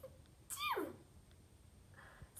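A single short sneeze, fairly quiet, then a faint low hum and a soft high tone with no voices.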